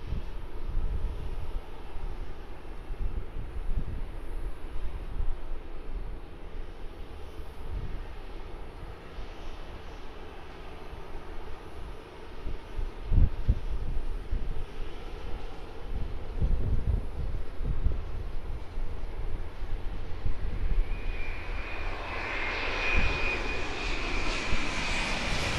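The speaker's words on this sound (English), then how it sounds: "That's not an A320, that is a Boeing 787-9 ANA." An ANA Boeing 787-9 passes by, its engines building from a distant rumble into a loud, broad roar near the end, with wind noise throughout.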